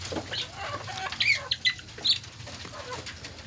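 Pet chickens being fed, scattered clucks and short high chirps over a quiet background, a few nearby calls standing out with faint rustling between.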